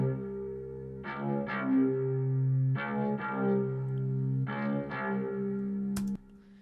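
A dark bowed synth patch in Logic Pro, filtered and EQ'd with distortion and chorus, plays sustained tonal phrases in three repeating groups of swelling notes, then cuts off with a brief click near the end.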